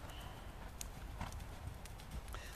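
Hooves of a horse cantering in a circle in a Stubben Freedom bridle, beating in a quick, steady rhythm, close and clear over a constant background hiss.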